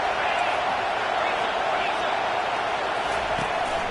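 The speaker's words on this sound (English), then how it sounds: "Decibels rising as the crowd gets behind this defense on 3rd down" Football stadium crowd roaring for the defense on third down in an LSU game, a steady, dense wall of cheering and noise that holds at full strength throughout.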